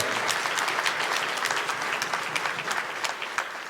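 A church congregation applauds with dense, continuous clapping from many hands, fairly close and loud throughout.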